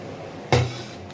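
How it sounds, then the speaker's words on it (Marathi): A single short clunk and hiss as a pressure cooker lid is opened after cooking rice and dal, close and brief against a quiet kitchen. "कुकर उघडूया."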